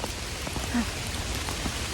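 Rain falls steadily on the forest while mushrooms are picked, a dense close patter of drops that stays even for two seconds. No one speaks.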